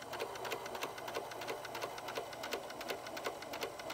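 A domestic sewing machine stitches through a fabric sleep mask, its needle running in a steady rapid rhythm close by, with no talking.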